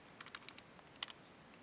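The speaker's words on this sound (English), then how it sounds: "I'm typing really bad today" Quick, light typing on a computer keyboard, a close patter of soft keystrokes with one sharper clack, steady room hiss underneath and nobody talking.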